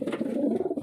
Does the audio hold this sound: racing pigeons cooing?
yes